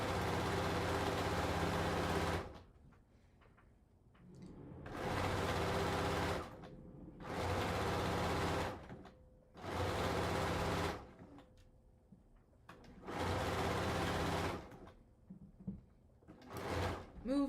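Bernina long arm sewing machine stitching in five steady droning runs of about two seconds each, separated by short quiet pauses, with light handling noises between runs.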